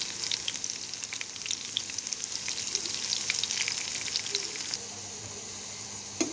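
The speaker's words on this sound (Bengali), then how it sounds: "তেলের মধ্যে দিয়ে দিয়েছি। এবার আস্তে আস্তে একটু উল্টে নেব।" Bitter gourd (karela) pakoras fry in oil, making a close, crackling sizzle with scattered pops that eases slightly toward the end, and a small clatter at the very end.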